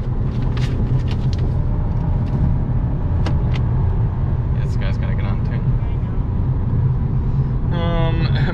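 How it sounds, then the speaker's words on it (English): Steady, loud engine and road drone inside a 2021 Volkswagen Passat while driving, a continuous low rumble that holds at the same level throughout. "Moran says, surprising that the engine doesn't sound like a vacuum cleaner or a blender like the Kia and Hyundai's."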